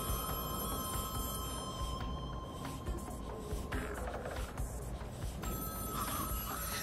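A ringing telephone inside the Shaolin Shuffle zombies map of a video game, a steady repeated electronic ring that holds for the whole stretch over a dense, continuous game-ambience backdrop, with no talking.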